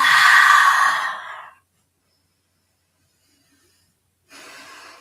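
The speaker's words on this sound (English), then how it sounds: "Tongue out, audible exhale." A forceful audible exhale through an open mouth with the tongue out during a yoga breathing exercise, one long breathy rush that fades after about a second and a half, followed by silence and then a softer breath.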